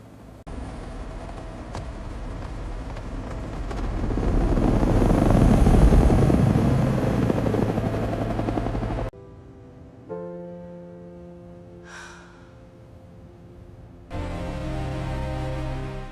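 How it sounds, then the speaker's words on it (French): A helicopter's rotor thrum swells louder as it passes close, then the scene cuts to quieter tones before the engine drone returns. "À qui est cet hélicoptère?"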